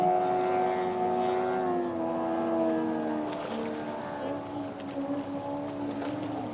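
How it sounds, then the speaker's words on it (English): Two small 1800cc racing boats race during a Gold Cup powerboat event, their engines droning steadily from a distance. The tones overlap and shift in pitch as the boats run, and no one talks. "you can hear the two little 1800cc boats just absolutely going at it"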